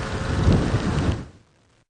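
Steady rain and a low thunder rumble roll over an open safari vehicle in the Masai Mara, broadband and fairly loud, then fading away quickly to near silence.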